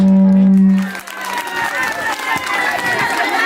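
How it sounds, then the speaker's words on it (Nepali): An audience applauds and cheers after a dance performance, a loud sustained tone cutting off as clapping and crowd noise swell and continue steadily. "ताली"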